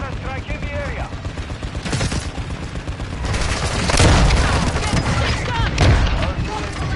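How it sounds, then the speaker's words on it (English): Hostile mortar strike explosions in Modern Warfare 2 amid a multiplayer match: dense rattling gunfire and booming impacts that swell louder toward the middle, with a voice speaking over the din. "Hostile mortar strike in the area."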